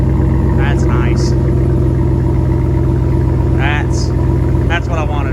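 A 2013 Ram 1500 Hemi V8 with a Magnaflow muffler delete rumbles at a steady, deep idle throughout, loud and close, while someone talks over it in short bursts.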